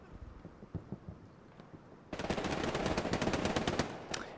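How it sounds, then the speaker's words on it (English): Dense automatic gunfire in the World War II shooter Hell Let Loose at the Hurtgen Siegfried Line, starting as scattered distant shots, then erupting halfway into loud, rapid, continuous bursts of machine-gun fire close by. "There were a lot of bullets coming his way."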